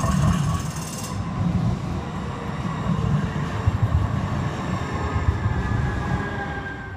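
A Portland MAX light rail train rumbles steadily nearby, a loud continuous rolling drone with clattering wheel-on-track texture and a faint high whine, with no talking.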